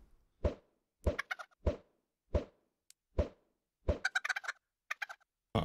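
Minecraft chicken sounds, a series of short clucking blips and soft thunks in an irregular rhythm, each sound separate against silence.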